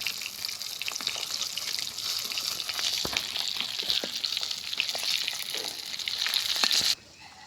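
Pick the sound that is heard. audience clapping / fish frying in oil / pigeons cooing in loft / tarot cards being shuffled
fish frying in oil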